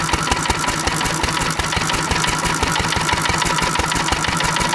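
Small engine running on pure SeaFoam fuel additive and misfiring, a loud, close, continuous uneven chugging with irregular stumbles in its rhythm.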